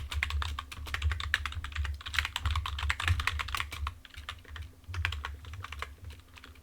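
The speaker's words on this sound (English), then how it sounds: "I recommend looking at the command here, memorizing it, and typing it all out." Someone types a command on a computer keyboard while setting up Ubuntu 22.04, with fast, steady, close-up keystrokes clicking in a continuous run and no talking.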